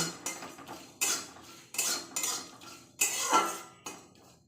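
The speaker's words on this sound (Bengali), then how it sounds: "গোটা জিরে গোটা ধনে আর একটা শুকনো লঙ্কা আমি শুকনো কলাই ভেজে নেব" Whole cumin, coriander seeds, a dried red chilli and dried lentils roast dry in a hot wok, stirred with a metal spatula that scrapes and clanks in spaced strokes, close and without voices.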